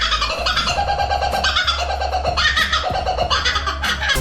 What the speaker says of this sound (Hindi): लाफिंग कोकाबोरा जब भी अपनी आवाज निकालता है तो ऐसा लगता है जैसे जंगल में कोई चुड़ैल जोर जोर से चीखें मार